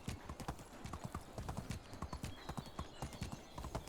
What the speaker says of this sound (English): I think that the horse makes a little bit too much noise.